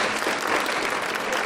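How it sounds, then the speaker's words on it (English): Dense, loud applause from a crowd at an Ohio public gathering, a continuous wash of clapping over the whole moment. "We'll give a round of applause for Bill Dingus."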